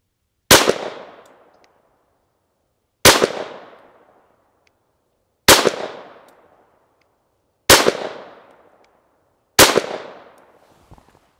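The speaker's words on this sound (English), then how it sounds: "let's shoot a 5-shot group for accuracy here at 10 yards" Five sharp, loud shots from a Smith & Wesson M&P 22 pistol firing Federal bulk .22 ammunition at a 10-yard target, evenly spaced about two seconds apart, each crack fading quickly with no talk between.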